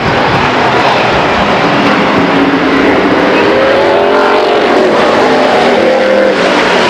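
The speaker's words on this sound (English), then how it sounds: "And shooting to the front is the 56 car of Albiani" Race cars roar around the Stockton 99 Speedway oval, a loud continuous engine drone with shifting pitch as the pack passes, filling the whole stretch with no pauses.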